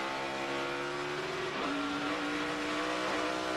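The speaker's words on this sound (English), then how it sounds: "You hear the 6 car get up on the rev limiter." The No. 6 stock car of Ricky Stenhouse Jr. screams at high revs on the road course at Watkins Glen in the 2012 Zippo 200. The engine bounces off the rev limiter with a sharp pitch dip, loud and continuous throughout.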